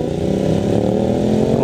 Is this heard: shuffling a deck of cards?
no